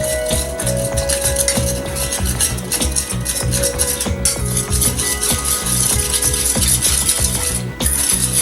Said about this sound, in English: I'm going to give this a whisk